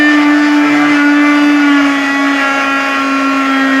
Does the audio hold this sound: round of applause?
no